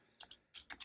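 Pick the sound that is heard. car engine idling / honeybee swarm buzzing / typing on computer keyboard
typing on computer keyboard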